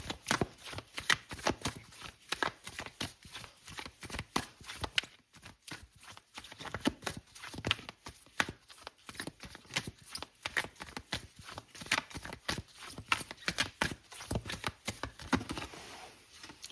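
Tarot cards are shuffled and handled in a dense, continuous patter of soft riffling flicks and slaps, close and steady across the whole stretch with no clear speech.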